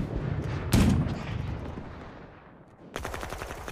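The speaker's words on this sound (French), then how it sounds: "On a déclenché immédiatement un tir de mitrailleuse." German cannon and machine-gun fire from the 1940 battle of Saumur: a loud, sharp blast that rolls off into a fading echo, then a rapid burst of close gunfire.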